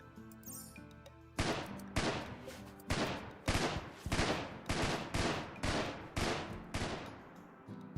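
Turret guns in a video game hammer away at a tortoise in a steady series of loud, sharp bursts, roughly one every half second, with no voices over them.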